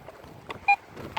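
A metal detector gives short electronic beeps over chunks of copper in rock at an abandoned copper mine, with one clear, sharp beep and a few fainter blips around it against quiet background noise.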